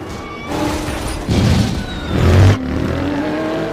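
Race cars in a film race scene roar and rev as they accelerate, engine noise building in surges with a loud peak near the end, dense and close with no talk.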